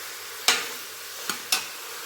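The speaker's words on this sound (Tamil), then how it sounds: "கறி போட்டு நல்லா வதக்கலாம்." A spoon stirs chicken sautéing in a pan for country-chicken curry. Three sharp scraping strokes stand out close and clear over a faint, steady sizzle, with no voices.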